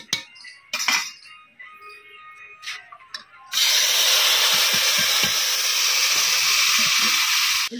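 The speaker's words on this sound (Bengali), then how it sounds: "জিরেগুলো এখানে ভালোভাবে ভাজা হয়ে গেছে, এরপর পেঁয়াজ টমেটো বাটা দিয়ে দিই।" Onion-tomato paste drops into a pan of fried cumin and erupts into a loud, steady sizzle that holds for several seconds, after a few quieter clinks and kitchen knocks.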